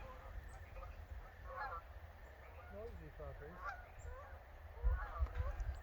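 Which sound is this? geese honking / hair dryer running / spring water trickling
geese honking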